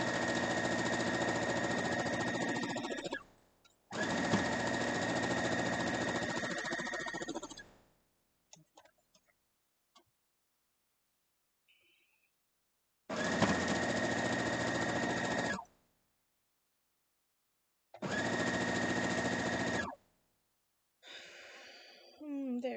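A home sewing machine stitches a spool quilt block in four steady whirring bursts separated by pauses, with small handling clicks between runs.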